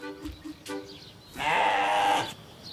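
Sheep and goats bleat on a farm, a few short calls early on followed by one long, loud, wavering bleat close by, with no people talking.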